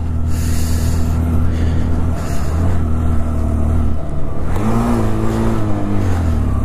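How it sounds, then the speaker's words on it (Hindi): A car engine labours uphill on the high-altitude road from Leh to Khardung La Pass in Ladakh, a steady low droning hum with rising strain near the end, continuous and close. "गाड़ी की ऑक्सीजन पूरा खत्म हो गई यार, टान नहीं ले रही है"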